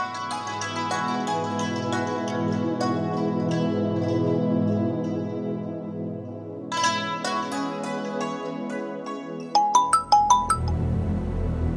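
A mobile phone ringtone plays a bright, repeating melody for several seconds, loud and clear with no talking over it, ending in a short run of higher chiming notes.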